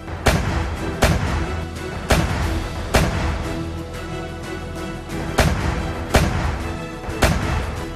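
Heavy booms from Leopard tank bombardment and artillery fire come about once a second, each a sharp loud blast with a rumbling tail over constant battlefield noise.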